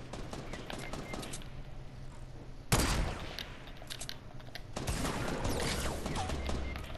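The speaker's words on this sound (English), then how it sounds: "Are you the one shooting?" Gunfire in the video game Fortnite, with bursts of rapid shots and a sudden loud blast midway, followed by sustained firing, heard clearly with faint background game sounds.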